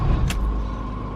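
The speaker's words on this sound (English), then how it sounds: "we're gonna start the car now" A Ford Fiesta Mk6 hatchback, showing an engine warning light, runs with a steady low engine rumble close by, after a brief sharp click near the start; no voices.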